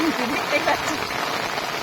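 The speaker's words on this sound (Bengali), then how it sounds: "প্রচণ্ড জোরে বৃষ্টি হচ্ছে সেই বৃষ্টির আওয়াজ আপনারা পাচ্ছেন" Heavy rain pours down on a rainy day of fishing in the Sundarbans, a dense steady hiss that fills the whole moment, with a voice speaking faintly underneath.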